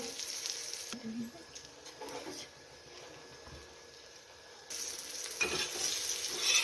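Stuffed green chillies sizzle and fry in a pan after being flipped, a steady hiss that rises in the last couple of seconds, with faint stirring noises under a quiet voice.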